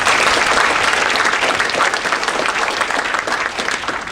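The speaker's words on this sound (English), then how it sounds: "we should give a round of applause" Dense, steady applause from a full audience at the 2010 VJJA annual business meeting and awards, loud and continuous throughout with no speech over it.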